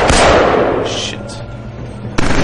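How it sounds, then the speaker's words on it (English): Gunfire rakes the player in Killzone 3: loud, sharp blasts open the moment and decay into rumbling echoes, with another abrupt shot near the end. "What the hell's shooting at me down here anyway?"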